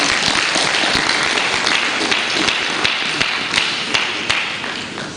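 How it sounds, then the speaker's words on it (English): An audience at a birthday celebration and book presentation claps steadily, a close, busy wash of hand claps with a few sharper taps standing out. "Clap for him, please."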